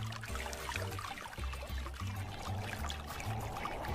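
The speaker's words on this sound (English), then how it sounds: "Water pumped from the water tank pours over the honeycomb cooling pad." In a portable evaporative air cooler, pumped water from the tank pours over a honeycomb cooling pad, a faint, steady trickle and splash running throughout.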